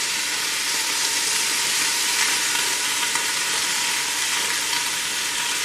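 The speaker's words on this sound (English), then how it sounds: "just flip it around, just let it sear up" Beef pieces searing in a hot pan for a roasted tomato and beef stew, with a constant close hiss and sizzle and no talk.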